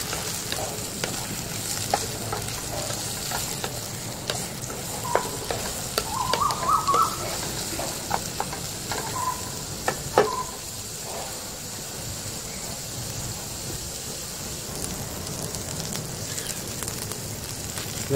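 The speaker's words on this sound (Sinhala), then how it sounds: "තව කැරටුයි ගෝවා මල් ටිකත් එහෙම දාලා ඒකත් පොඩ්ඩක් ටෙම්පරාදු කරගන්න" Carrot, cauliflower and knol-khol tempering in a hot pan, a steady close sizzle and frying hiss with occasional stirring clinks and scrapes.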